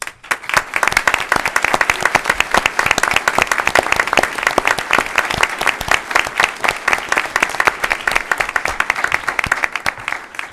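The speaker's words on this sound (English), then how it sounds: "please stand for a round of applause" Coaches at an April school board meeting receive a sustained round of applause from the audience, dense steady clapping filling the room for the full stretch without a break.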